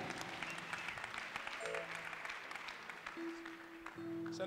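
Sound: congregation clapping hands for the pastor

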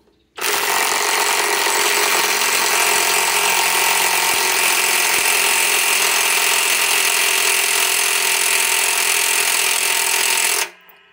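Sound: cordless impact wrench tightening, DeWalt DCF891 or Milwaukee M18 Fuel

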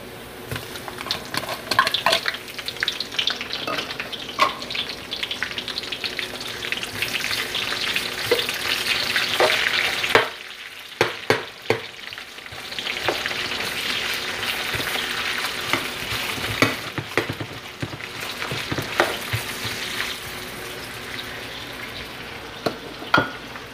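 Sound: garlic and onions frying in hot cooking oil

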